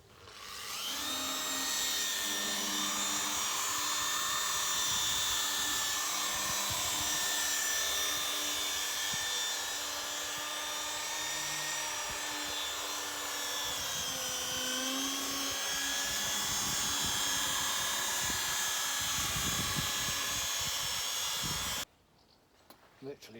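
A machine polisher buffs the body of a 2001 Bentley Speed 8 under restoration, producing a loud, continuous whirring whine with shifting pitch for about twenty seconds before it cuts out abruptly.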